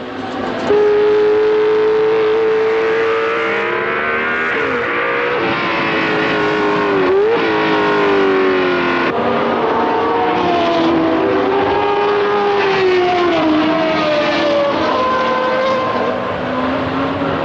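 Racing cars speed around a circuit, engines roaring continuously with shifting pitch as they pass and sweep through corners, loud and close throughout with no talk.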